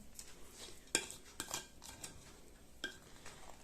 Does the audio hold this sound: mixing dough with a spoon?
yes